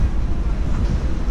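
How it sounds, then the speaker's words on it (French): Strong wind buffets the microphone at an amusement park in bad weather, a loud, continuous low rumble filling the short stretch without any talking. "Parce que le temps est mauvais, et qu'il y a du vent."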